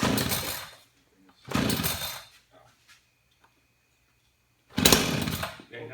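A chainsaw being started during volunteer fire department chainsaw training: three loud, close bursts of engine noise, each about a second long, with quiet gaps between them.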